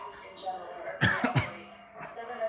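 Several sharp coughs break out close by, tangled with breathy laughter and bits of talking.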